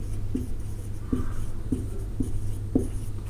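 Handwriting during a Class 10 maths lesson on real numbers: a series of short, crisp strokes, about five, spaced in an irregular rhythm over a steady low background hum, close and fairly quiet.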